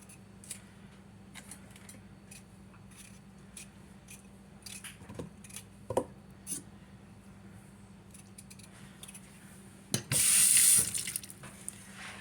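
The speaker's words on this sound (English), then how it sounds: "That one needed rinsed a little bit." A potato rinsed under a kitchen sink tap; a brief burst of running water near the end, preceded by quiet knife cuts and small clinks in a soft kitchen background.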